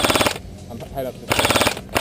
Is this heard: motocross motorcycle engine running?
no